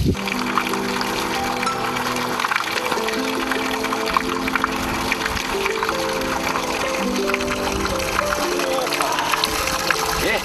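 Mountain water running from a village fountain in Nezhilovo, a steady continuous splash and gurgle close by, with a voice talking over it throughout.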